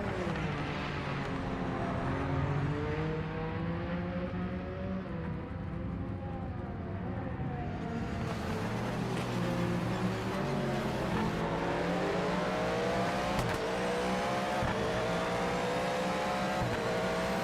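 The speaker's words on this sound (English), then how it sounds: "hypercar coming in" A hypercar's racing engine in the video game Project Motor Racing, revving and shifting continuously with rising and falling pitch, loud and close throughout, other cars faintly around it.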